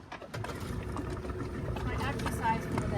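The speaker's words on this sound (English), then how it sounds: "Fire up the engine" Small outboard motor on a sailing cruiser's dinghy idles and runs steadily at close range, a continuous low mechanical drone with a few faint voices in the background.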